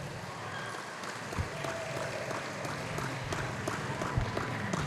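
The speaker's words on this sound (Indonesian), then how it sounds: "tepuk tangan yang meriah untuk kita semuanya" Audience applause in an Indonesian television talk show studio in Banyuwangi, a steady dense wash of clapping running the whole time at moderate level, with no clear speech on top.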